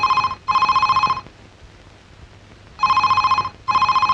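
A telephone rings in a Telugu film scene, sounding in two double-ring bursts separated by a silent gap, each burst a loud, trilling electronic bell.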